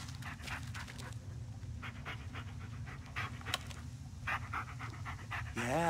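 Dog panting steadily in the Blair Witch video game, a rapid rhythmic huffing close up, with faint clicks and a rising tone near the end.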